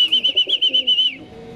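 Racing pigeons arriving at the loft after a 329 km race from Vigan, Ilocos Sur: a bright, pulsing chirpy call repeats rapidly for about a second, close and clear, then fades into quiet background.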